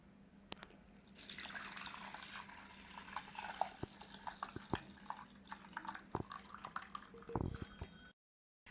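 Watermelon juice poured into a hot agar mixture for jelly, a steady liquid pour with splashing and dripping that stays close and fairly quiet, with a few sharper drips and clinks, then stopping abruptly near the end.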